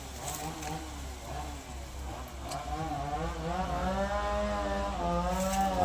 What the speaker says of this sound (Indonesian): Ada suara gergaji.